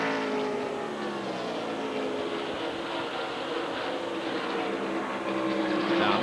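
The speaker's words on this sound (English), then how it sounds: "Bill Parsons, 2nd place car will come by." A NASCAR Busch Series stock car on track at the 2000 Aaron's 312 roars steadily, its engine note shifting in pitch as it passes and swelling louder toward the end.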